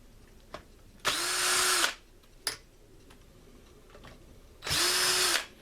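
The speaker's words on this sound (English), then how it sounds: "Now it's time to remove the bolts for the front bearing retainer." A power tool removes the front bearing retainer bolts from a T-90 transmission, whirring in two close bursts of just under a second each, with light clicks and taps in between.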